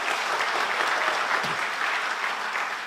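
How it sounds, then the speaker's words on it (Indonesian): Steady applause from a church congregation during a Sunday worship service, a dense wash of clapping with no voices over it and only slight swells in loudness. "Beri tepuk tangan lagi buat Tuhan kita."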